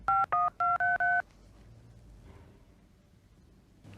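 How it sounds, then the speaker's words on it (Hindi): A telephone number dialed with five quick touch-tone beeps in a fast, even sequence, followed by faint room noise with no talking. "अपन वो अन्ना को फोन लगाएगा।"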